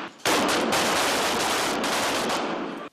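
Dense, continuous automatic gunfire from weapons fired during a military training exercise, loud and close, with shots overlapping into a sustained roar for nearly three seconds before cutting off abruptly.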